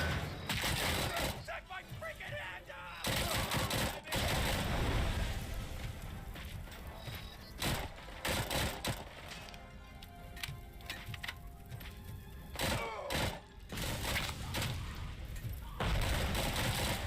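Bursts of gunfire in the RoboCop: Rogue City video game come in repeated loud volleys separated by short gaps, with mechanical clicks between them and voices talking over parts of the fight.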